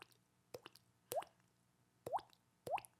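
A voice imitates dripping water with three sharp, wet plops, spaced unevenly over a few seconds against a quiet background.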